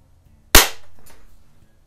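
A single sharp crack of a Beeman P17 air pistol firing a pellet at a paper target, close and loud with a brief fading tail and a faint secondary tick after.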